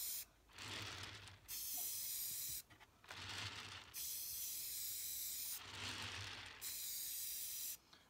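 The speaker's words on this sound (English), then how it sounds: "I always like to spray into my trash to make sure it's going to come out okay." A spray paint can hisses in three long bursts into a trash can, each lasting a second or two, separated by short pauses.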